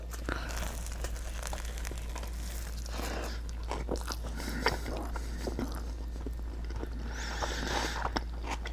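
Someone bites into a smoked chuck roast BBQ beef sandwich with barbecue sauce and pickled red onions, giving close, repeated crunching and chewing with wet crinkly bursts over a steady low hum.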